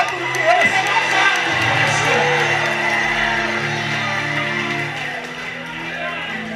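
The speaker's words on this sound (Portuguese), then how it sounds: "Quem crê nisso dá um grito de glória. Dá um grito mais alto do que esse." A church congregation lets out a loud sustained cry of glory, a dense wall of massed shouting and whooping that stays strong for several seconds before easing slightly toward the end.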